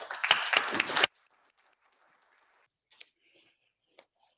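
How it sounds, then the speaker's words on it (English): A short burst of audience clapping lasts about a second, then stops abruptly, leaving near silence with a couple of faint clicks. "Please join me in a round of applause."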